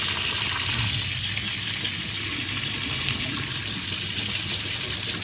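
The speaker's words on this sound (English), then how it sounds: "So first you want to start by giving them a really good rinse." Tap water runs steadily into a sink while dry lentils are rinsed, a continuous bright hiss and splash with a faint low gurgle beneath and nobody talking.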